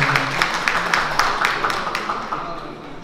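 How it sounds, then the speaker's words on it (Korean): An indoor audience claps in a burst at a formal ceremony and show, crisp hand claps rising and then tapering off over a few seconds. "박수로 부탁드리겠습니다."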